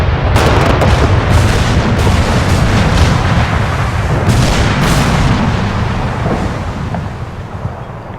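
Sustained rumbling artillery barrage in Arma 3, a dense, continuous roar of distant explosions and booms blending together for several seconds, fading slightly at the end, with no voices.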